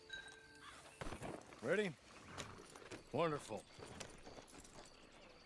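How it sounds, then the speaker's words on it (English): Horse hooves clip-clop in Red Dead Online, faint and intermittent, while voices speak briefly nearby. "Get on the horse when you're ready."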